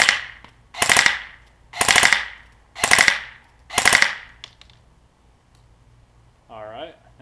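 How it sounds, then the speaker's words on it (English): Elite Force M4 CQB airsoft rifle firing five evenly spaced full-auto bursts, each a loud rapid rattle about half a second long, with a brief voice-like sound near the end. "We're going to switch to fully auto mode, take a couple burst shots."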